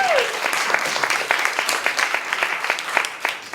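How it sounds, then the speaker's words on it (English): An audience applauds steadily, a dense wash of clapping that carries on throughout and slowly tapers near the end. "Give her a big round of applause."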